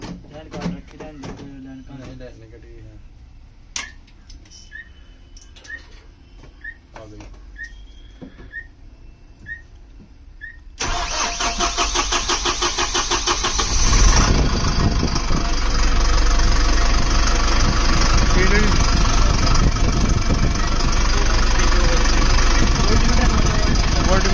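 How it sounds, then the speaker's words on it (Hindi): A Tata Marcopolo school bus diesel engine cranks and catches, then settles into a loud, steady rumbling idle that fills the rest of the time, after a quieter opening with people talking nearby and scattered clicks. "गाड़ी स्टार्ट हो गई"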